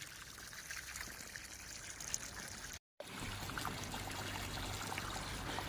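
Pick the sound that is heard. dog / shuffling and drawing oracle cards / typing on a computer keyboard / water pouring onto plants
water pouring onto plants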